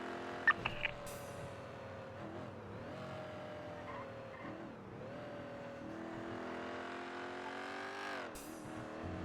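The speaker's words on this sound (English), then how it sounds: "I think this car has a turbo and dump valves." A turbocharged car with dump valves in the game GTA, engine droning and rising and falling through gear changes with short whooshing valve releases, fairly quiet and alone without speech.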